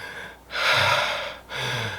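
Someone takes two strained, raspy breaths close to the microphone, each a short hissing intake, shortly after All-On-4 dental implant surgery.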